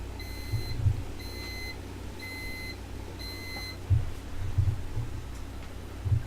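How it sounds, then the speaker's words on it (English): A computer warns that its fan has stopped with four evenly spaced, shrill electronic beeps, each a rapid chirping burst, over a steady low hum broken by a few dull thumps. "that's also my computer, the beep beep. It's telling me supposedly that the fan stopped moving."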